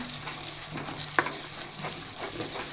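Onion-tomato masala with red chili powder is stirred in a pan, a soft steady sizzle broken by close scraping strokes of the spoon at an uneven pace.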